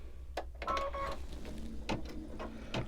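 An embroidery machine starting background stitching on a snowman mug rug, a few quiet clicks and short whirring bursts over about three seconds, faint and close.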